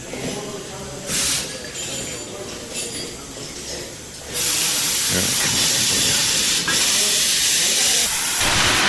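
Loud, steady air hissing as a boat trailer tire inflates, building up partway through and continuing strong; a voice speaks briefly over it.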